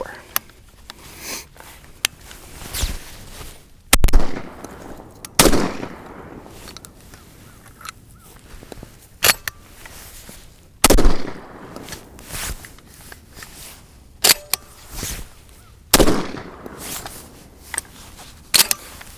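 Remington 11-87 Special Purpose Magnum shotgun firing four low brass birdshot shells, a few sharp loud reports spaced across the clip with mechanical clatter and handling between shots.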